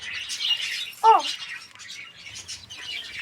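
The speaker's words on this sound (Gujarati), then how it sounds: "આ ટર્કી બર્ડ જો થઈ ગયા મોટા મોટા" Turkeys on a farm give one short, loud squawk partway through, set against a steady bed of chirping birds and faint background noise.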